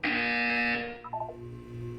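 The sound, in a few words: buzzer in video game Portal 2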